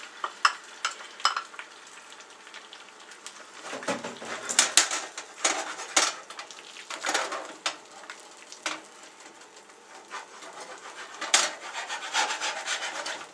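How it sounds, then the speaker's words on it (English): Non-stick frying pan with egg in it being shaken on the stove, producing close, irregular scraping and sliding rattles with bursts of soft sizzle, rising and falling for over ten seconds. "So I'm just shaking the pan here."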